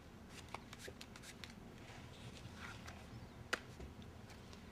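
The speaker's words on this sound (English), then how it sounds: "This card now goes into the pack with a shuffle." A pack of playing cards is shuffled during a close-up card magic routine, producing faint papery riffles and light taps with one sharper snap near the end.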